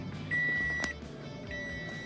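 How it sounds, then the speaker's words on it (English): A 2014 Toyota RAV4 Limited chimes after a push-button start, a quiet steady electronic tone sounding twice with a soft click between, over low cabin hum. "so we'll let the beeping stop"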